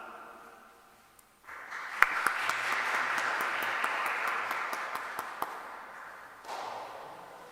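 A church congregation applauds a gift presentation during a Sunday Eucharist, a fairly soft patter of many hands swelling in after a quiet start, with a few sharp individual claps standing out.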